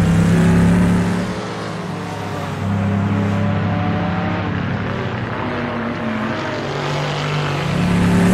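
A Chevrolet Stingray Corvette engine races in Assetto Corsa, a loud, close throaty roar that drops in pitch on a downshift to third, then holds a steady growling drone before climbing again as the car accelerates.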